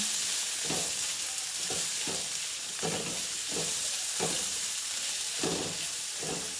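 Onions and garlic fry over medium heat for home fries, giving a constant hissing sizzle with regular soft stirring strokes about every half second to second, close and even throughout.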